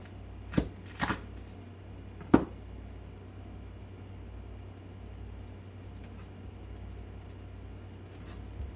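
A knife cuts the core out of a head of cabbage, with a few sharp close cuts and thumps early on, then near-quiet with a faint room hum.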